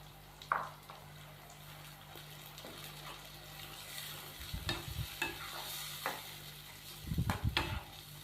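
Tomato paste is stirred into frying ginger and garlic paste in a pan for chicken tikka masala, giving a soft, steady sizzle with several brief, louder scraping stirs of the spoon.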